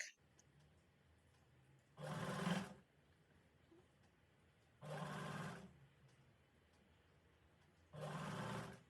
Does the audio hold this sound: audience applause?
no